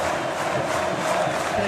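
Brief roar of Vasco supporters filling a stadium during a 2011 Copa do Brasil match against Coritiba, a dense sustained crowd swell with no pauses.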